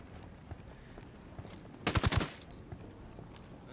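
A minigun fires in Ghost Recon Wildlands, a short buzzing burst of very rapid shots mid-clip, standing out from faint background noise.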